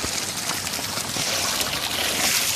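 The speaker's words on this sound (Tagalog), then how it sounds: "Overflow lang po ito." Water overflowing from a water source rushes and splashes in a continuous close, loud hiss with no pauses.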